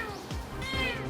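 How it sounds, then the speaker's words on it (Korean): A mother cat meows during a reunion with her kitten, a couple of short, plaintive cries close by within about a second. "우여곡절 끝에 다시 만난 어미와 새끼 고양이."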